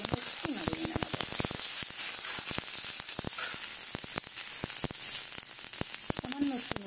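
Cauliflower and onion paratha filling sizzles in a frying pan while being stirred, a steady frying hiss punctuated by rapid clicking spatula taps, with faint voice traces.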